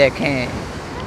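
Waves wash in on Manora Beach, a soft broadband surf rush with wind noise, while people talk over it.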